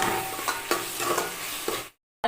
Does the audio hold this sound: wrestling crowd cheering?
no